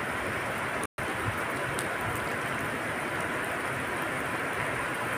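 Heavy rain falls in a historical village, a steady, dense hiss that continues throughout apart from one short dropout near the start, with no one speaking.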